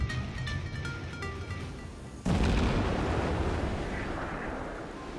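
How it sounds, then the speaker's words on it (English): Naval guns boom in World of Warships: a rumbling battle bed with faint metallic tones suddenly breaks into a heavy, close blast whose roar lingers and slowly fades. "Although not when the enemy's shooting."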